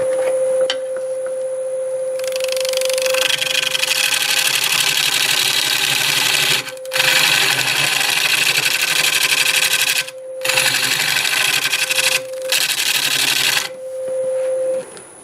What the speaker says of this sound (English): I switched to my little carbide hollowing tool for a while.